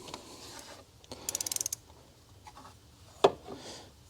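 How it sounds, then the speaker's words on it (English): Torque wrench on spark plugs of a 2012 Chevy Cruze Eco: a quick burst of close ratchet clicks, then a single sharp metallic click as it reaches torque, in an otherwise quiet space. "all right, torque wrench set to 17 foot-pounds."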